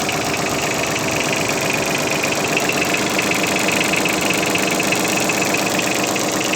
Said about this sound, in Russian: Трактор работает ровно очень, без лишних каких-то шумов